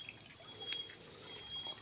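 Water dripping from a natural drinking-water spring on a forested mountainside in Samar, a faint, irregular patter of drops over a quiet background.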